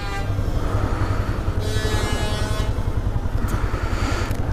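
A motorcycle engine, said to have last been hit, runs loudly and close with a steady low rumble, and a horn-like tone sounds briefly partway through.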